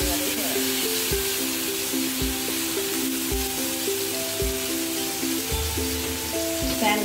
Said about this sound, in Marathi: पॅन गरम झालेला आहे, मंद गॅसवर आहे तंदुरी शेकून घ्यायची।